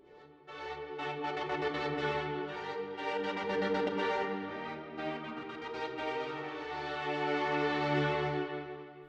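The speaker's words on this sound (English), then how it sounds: "I'm using an effect in Logic called Remix and using the stutter, which I automated to create a rhythmic stutter" String synth pad playing sustained block chords, chopped by an automated Remix stutter effect in Logic into a rhythmic, gated pulse; full and continuous, with no voices.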